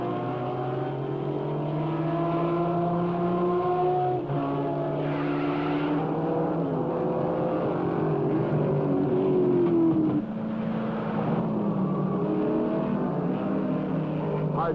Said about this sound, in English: The flag drops and the Mustangs grab the lead.